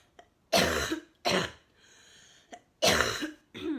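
Several loud, close coughs in uneven bursts, some wet and harsh, separated by short breaths and quiet gaps.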